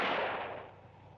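A single gunshot rings out in a western film, one loud sharp crack with a decaying echo.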